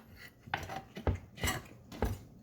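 A knife works through cooked steak on a plate, giving a few soft, close scraping strokes and light clinks of metal on crockery, spaced roughly half a second apart.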